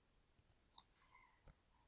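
Computer mouse clicks while navigating SPSS menus, two or three sharp, quiet clicks spaced apart against near silence.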